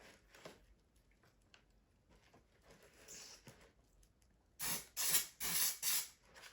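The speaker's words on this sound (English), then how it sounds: "Okay, they don't like being sprayed upside down, so this is not an any angle spray valve either." An Amaco Sprayz spray bottle gives several quick bursts of spray near the end, four or five loud hissing pulses after quieter faint sputters and handling noise.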